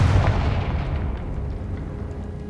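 A Confringo fire curse in Hogwarts Legacy bursts with a heavy explosive boom, then a deep rumbling roar that slowly fades over a couple of seconds.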